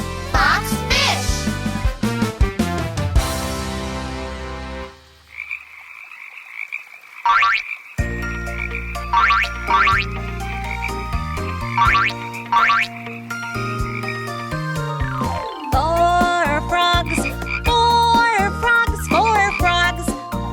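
Cartoon frogs croak in a bouncy children's alphabet song, several springy croaks and boing-like hops repeating over bright music.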